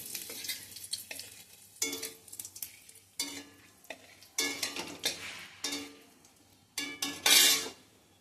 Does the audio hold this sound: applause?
no